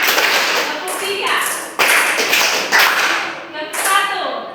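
A school class claps together in a steady counted rhythm, short bursts of many hands slapping at once, fairly loud and close, with a teacher's voice calling the counts between them.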